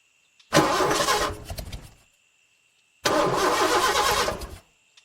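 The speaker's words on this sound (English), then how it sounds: "But when Dan turned the key, nothing happened." A car engine is started with a key twice, each attempt a loud, close burst of cranking that catches briefly and then cuts out, separated by silence, with no voices.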